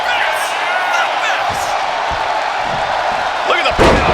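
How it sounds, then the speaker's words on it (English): A wrestling arena crowd in the WWE 2K25 video game roars steadily after a scoop slam, a dense continuous wash of cheering with a few thuds, while a commentator talks over it. "Listen to this crowd."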